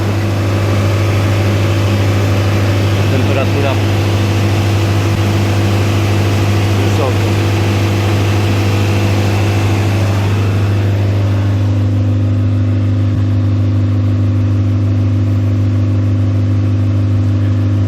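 A Fiat Ducato diesel engine with about 500,000 km on it, running steadily during a DPF burn-off after an engine rebuild: a loud, continuous low drone with a slight change in tone partway through.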